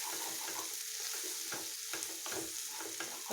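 Beaten eggs stir-fried with okra in a hot pan give a steady, close sizzle, with repeated scraping stir strokes rising above it at a loose, uneven rhythm.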